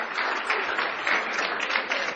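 A church congregation applauds together in a brief, dense burst of clapping that stays steady and fairly close for a couple of seconds.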